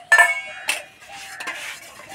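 Eggs being beaten in a bowl before frying, giving close clinking and tapping of utensil against the dish with a few sharp knocks followed by softer stirring scrapes, no talk.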